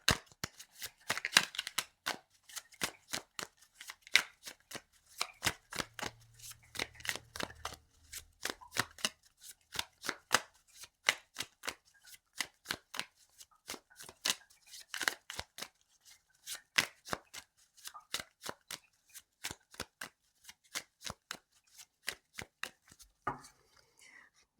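Oracle card deck being shuffled over and over, a long run of crisp riffling card slaps in steady bursts, close and fairly quiet, with no talking.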